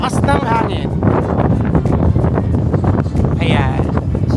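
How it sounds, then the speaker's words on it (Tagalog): Strong wind roars across the open deck of the Royal Caribbean cruise ship Anthem of the Seas, buffeting the microphone in loud continuous gusts while people talk close by. "I'm sure hindi nyo naman kami naririnig dahil ang lakas ng hangin"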